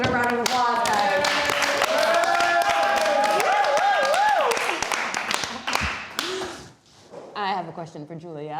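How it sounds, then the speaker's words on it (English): An audience claps briefly at a fashion talk show, with sharp clustered claps and cheering, sung or whooping voices over the top, before dying away into talk. "let's give it a round of applause, guys."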